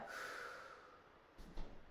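A slow, steady exhale of breath during a core exercise, soft and close, fading out, then followed by a quick sharp breath.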